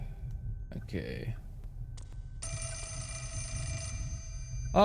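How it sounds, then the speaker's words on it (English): A telephone rings in the video game Fatal Frame: Mask of the Lunar Eclipse, a steady electronic ringing tone that starts midway and continues for over two seconds, after brief voice and noise bursts earlier. "Oh, goody, a phone call."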